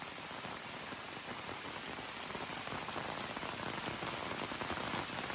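Heavy rain runs down a hiking trail on the Appalachian Trail like a river, a dense, steady rushing hiss that holds constant throughout with no voices.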